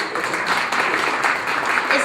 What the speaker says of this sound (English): Just clap your hand.